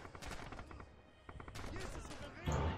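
Rapid bursts of gunfire in the World War II shooter Red Orchestra 2, with Rising Storm Blitzkrieg multiplayer, crackle in dense volleys throughout, with a louder, heavier blast near the end and game voices mixed in underneath.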